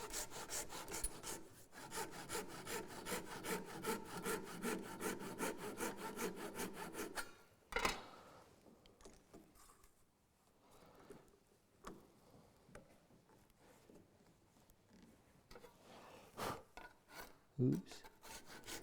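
A hand saw cuts 1/2-inch-wide wooden inlay tabs for winding sticks with rapid, rhythmic rasping strokes for several seconds. After a pause, a few slower, scattered strokes and scraping touches follow, close and moderately quiet.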